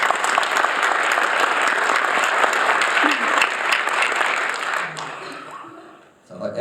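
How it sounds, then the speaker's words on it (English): Audience at a heroin and opioid awareness forum clapping for testimony speakers, a dense sustained round of applause that fades out toward the end, with a voice in the room. "please put your hand together just to say thank you for these people to come out and give testimony"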